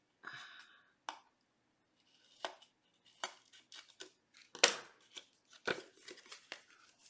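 Scissors snip through paper card while trimming a handmade card, producing about a dozen short, crisp cuts in an irregular rhythm, close and fairly quiet with pauses between.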